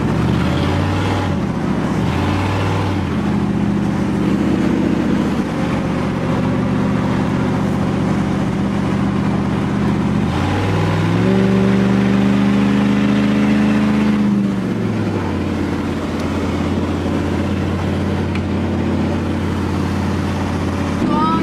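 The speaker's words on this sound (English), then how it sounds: "Ready for some exhaust sounds?" Exhaust of a budget 3rd gen Firebird rat rod with an LS swap from a 2005 Suburban, holding a steady loud burble, then revving up around the middle and settling back, close to the car, with brief speech over it.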